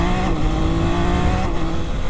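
Triumph Daytona 660 motorcycle ridden over a choppy road, its engine a steady, close, loud droning note with constant wind roar and no pause in the sound.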